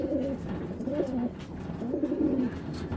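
Racing pigeons, a pair of Ludo-bloodline birds, coo in a few low rolling phrases, close by and moderately loud over a faint background hiss.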